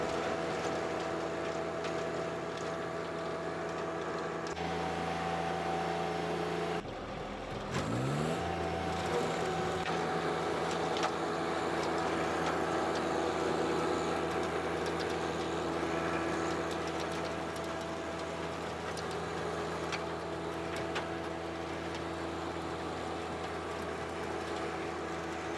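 A John Deere 1025R compact tractor drives a King Kutter tiller through packed garden soil, its engine droning steadily and close with a brief dip in pitch partway through, no talking over it.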